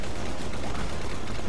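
Rocket launcher fire in Star Wars Battlefront 2 during a modded team deathmatch, a dense, continuous roar of blasts and gunfire filling the whole moment, loud and close with no talking.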